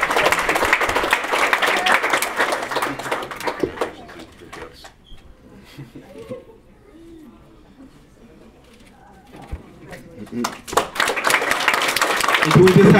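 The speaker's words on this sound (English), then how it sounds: "Can we just have one more round of applause for the class of 2019?" Graduation audience for the class of 2019 claps in a broad wash of applause at the start and again rising at the end, with a quieter stretch between where voices and faint bird calls are heard.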